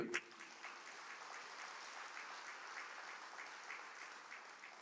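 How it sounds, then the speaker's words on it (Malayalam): A church congregation applauding, soft, distant and even clapping from a large crowd that holds steady throughout without any voices over it. "ഒന്ന് കൈയുയർത്തി കൈയടിക്കുക"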